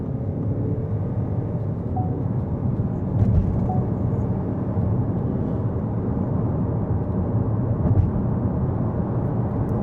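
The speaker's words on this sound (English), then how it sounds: "Okay, drive modes, sport, and let's see what this thing can do. Gun it." A Ford Kuga accelerating in sport drive mode, heard from inside the cabin as a steady low engine and road rumble with a couple of small surges, fairly subdued, no talking.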